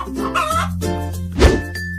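A cartoon chicken clucks in a short burst of loud, close, nasal squawks, ending in a sharp thump or hit, with no voices over it.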